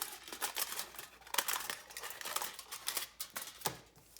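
Thin aluminum or tin embossing sheet being cut with scissors, a close series of crisp metallic snips and crinkles in an uneven rhythm, with no one talking.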